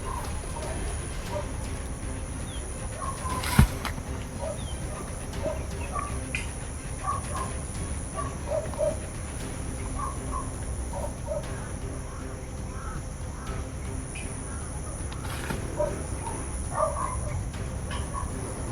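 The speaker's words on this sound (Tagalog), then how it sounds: "May mga uwak pa sila doon." Crows caw intermittently across an outdoor scene, with scattered caws and chirps over a steady background murmur; a sharp knock stands out early on.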